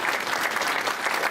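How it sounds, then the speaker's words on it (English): An audience applauds volunteers at a tech conference session, a short burst of steady, dense clapping from a seated crowd with no voices over it. "let's give a big round of applause to all these volunteers"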